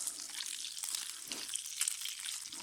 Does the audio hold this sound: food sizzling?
yes